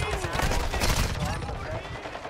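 Gunfire in a video game during a hostage-rescue mission, dense overlapping bursts of shots and impacts under a loud, busy mix with voices mixed in.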